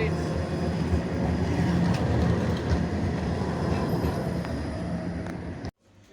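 A tram passing through the city of Eskişehir, Turkey, a loud rumbling roll with rail clatter and faint wheel squeal that holds steady, then cuts off abruptly near the end, with some voices around it.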